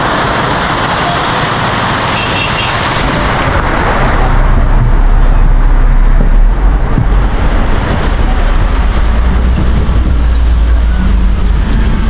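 Steady roadway noise from a bus pulling up at a roadside stop in heavy rain, with a low engine rumble that swells and holds over a constant wash of rainfall, loud and close throughout.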